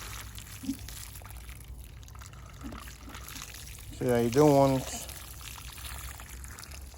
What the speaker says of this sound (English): So now I'm going to water it very well.